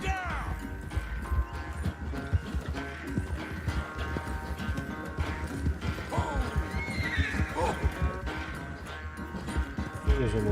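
A horse in the video game Red Dead Redemption 2 whinnies repeatedly over steady clip-clopping hooves, close and prominent, with a voice briefly speaking underneath.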